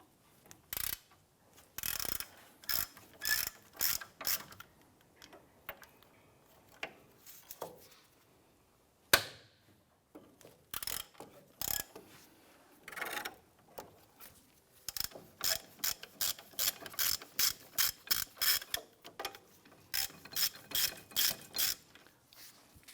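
Hand ratchet working loose the two 15mm caliper bracket bolts on the front knuckle of a 2005-2007 Ford Five Hundred, giving bursts of rapid sharp clicking separated by short pauses, close and fairly loud.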